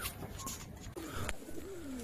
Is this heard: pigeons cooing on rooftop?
yes